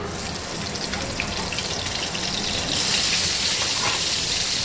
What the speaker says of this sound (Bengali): ওইগুলো পটলগুলো ভেজে নেবো